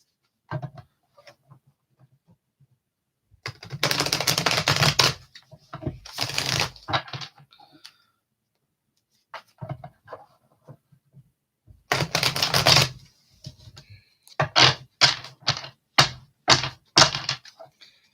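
Tarot cards shuffled and pulled for a reading, with bursts of dense riffling shuffles separated by quiet gaps, then a quick series of sharp card snaps, close up and with no talking.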